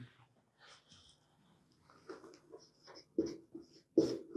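Chalk or marker scratching out a math formula on a board in a classroom, faint intermittent strokes with quiet pauses between, growing to a few firmer, louder scrapes toward the end.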